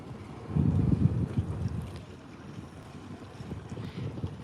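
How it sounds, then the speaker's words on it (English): Wind buffets and rumbles against the microphone in low gusts on the river at Potter Heigham under grey skies, strongest near the start, then settling into a steady blustery rush. "It is windy, yes."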